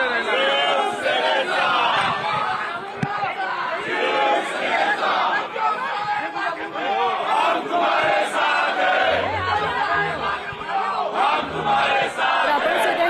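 Crowd of Yuva Sena workers celebrating outside Matoshree after a senate election win, a dense, loud wall of shouting and chanting voices that runs without a break, with a few deep thumps toward the end.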